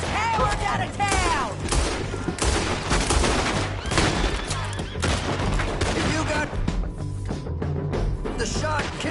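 Dense rapid gunfire in the video game Red Dead Redemption 2 during a town shootout, with loud overlapping rifle and pistol shots and ricochets cracking continuously, while voices shout over the fusillade.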